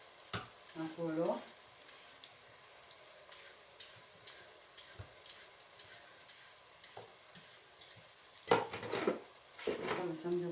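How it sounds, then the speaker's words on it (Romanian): Carrots sauté in a pan for a chicken wing paprikash with potatoes and peas, a soft, steady sizzle ticking with faint clicks and stirring taps, broken by short stretches of talk near the start and end. "Călesc un pic și morcovii"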